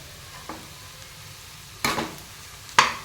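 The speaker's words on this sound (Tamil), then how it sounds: "கொத்தமல்லி கருவேப்பிலை இதை ரெண்டுத்தையும் போட்டு நல்லா மிக்ஸ் பண்ணிடலாம்" Coriander and curry leaves get stirred into a potato bonda mixture with three separate scraping strokes, one faint and two sharper ones, and a low hum sits underneath.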